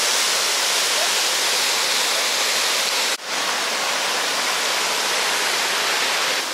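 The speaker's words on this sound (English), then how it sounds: "Time to go back for a better view of the waterfall at Hickory Run State Park." Waterfall at Hickory Run State Park, Pennsylvania, a steady, loud, broadband rush of falling water heard up close, continuous throughout with one brief dip in the middle.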